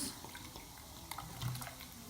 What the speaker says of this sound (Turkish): Şimdi yoğurdun içerisine hemen şöyle sade sodayı hemen açalım. İçerisine döküyoruz.